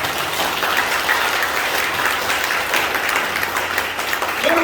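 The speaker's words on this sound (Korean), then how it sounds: "일단 하나님께 박수 한번 쳐드리세요." A church congregation at a revival meeting claps together in sustained, dense applause, loud and steady throughout with no talking over it.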